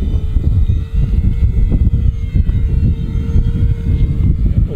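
E-flite RV-7 1.1m RC airplane on a 3S battery flying overhead at about three-quarter throttle, a loud steady electric motor and propeller drone with slight pitch shifts as it passes, no talk.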